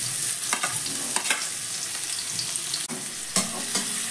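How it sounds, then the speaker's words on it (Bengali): Chopped onion and green chilies fry in a pan with a steady, soft sizzle broken by occasional stirring scrapes and clicks. No one speaks. "পেঁয়াজ আর লঙ্কাটাকে হালকা করে প্রথমে একটু ভেজে নিতে হবে"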